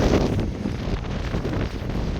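Wind blowing outdoors along a flooded riverbank near a village, a loud continuous buffeting rush of air striking the microphone, with no voices.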